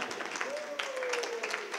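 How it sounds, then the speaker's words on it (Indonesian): An audience at a workshop in a mosque library claps together, a steady spread of applause with a voice talking over it throughout. "tepuk tangan buat Anda semuanya"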